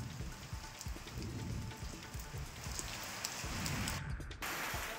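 Unseasonal rain falls steadily in Maharashtra's mango-growing region, a continuous soft patter and hiss of drops on surfaces, fairly faint and even, with a brief dip near the end and no voices.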